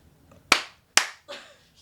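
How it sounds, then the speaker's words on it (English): Sharp hand claps used to sync a recording, two crisp loud claps in quick succession followed by a softer third, close and otherwise quiet. "Should we do the clap?"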